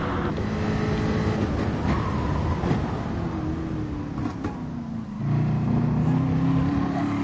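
Mercedes GT3 race car in a racing video game at Interlagos, its engine droning loudly down the main straight, pitch rising with acceleration, a drop and gear shift near the end, alongside other cars close by.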